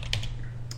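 A few quick keystrokes on a computer keyboard, close and crisp, tapped out in a brief burst during Blender work.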